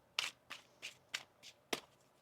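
Tarot cards being shuffled close up: six short, crisp riffling bursts at a steady, unhurried pace, quiet and alone.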